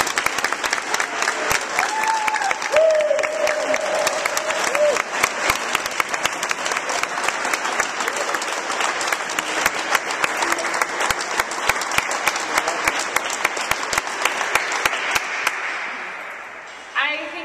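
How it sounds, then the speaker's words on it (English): A large audience at a Minneapolis event applauds in a loud, sustained wash of clapping that carries on steadily for many seconds before tapering off at the end. "join me in a round of applause for Lindy Anderson"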